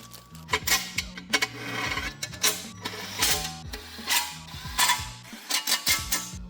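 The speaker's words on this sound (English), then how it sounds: "I've got new bolts as well to bolt down the windage tray." A ratchet clicks rapidly in close, repeated bursts as new bolts are driven down to secure the windage tray on a K24 engine, with brief pauses between runs.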